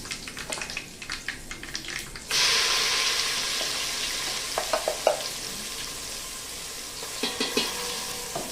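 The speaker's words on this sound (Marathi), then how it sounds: "कढीपत्ता, नंतर हे जे वाटण केलेलं आहे हे वाटण घालायचं." Curry leaves and ground masala paste sizzle in a hot pan for a Nashik-style misal. Crackling taps give way to a sudden loud, steady hiss, with close stirring knocks scattered over it.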